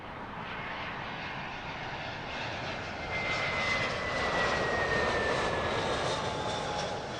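An airplane landing at Heathrow Airport, a broad continuous roar of jet engines that grows slightly louder and steadier as the aircraft comes down, with a faint rising whine on top.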